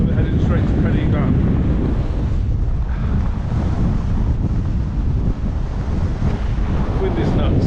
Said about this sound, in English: It's now extremely windy.